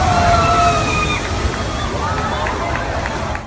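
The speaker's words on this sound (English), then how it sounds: "Waves measuring as high as 5 meters or 16 feet battered the coast of Chile" Storm waves batter the coast of Chile with a steady, heavy rush and slosh of churning water, loud and continuous, with faint whistling tones and distant voices mixed in.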